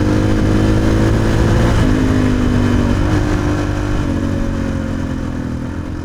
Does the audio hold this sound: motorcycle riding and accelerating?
yes